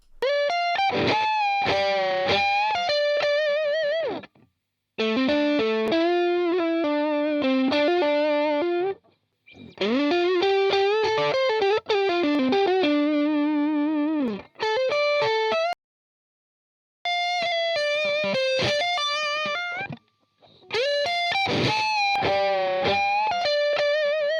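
Electric guitar through an Ibanez TubeScreamer or Boss Blues Driver overdrive pedal on a lead setting plays lead phrases with sustained, singing notes and bends, in several bursts separated by brief pauses.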